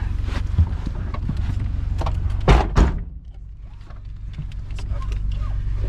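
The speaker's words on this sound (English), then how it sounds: "Solid thud of a Saab door." A Japanese car's door slams shut with a heavy, solid thud near the middle, preceded by rustling and followed by a quieter, muffled interior hum.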